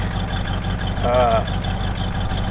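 An engine fitted with a new carburetor kit idles steadily with a low, even rumble throughout. A brief tonal chirp rises over it midway.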